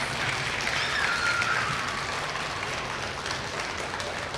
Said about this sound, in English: Let's give our family a round of applause.